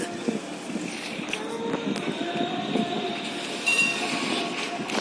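A tram rolls past nearby over an overhead wire junction in Geneva with steady rumbling, metallic clicks and a thin wheel squeal, the rattling continuous throughout with a brief louder squeal toward the end.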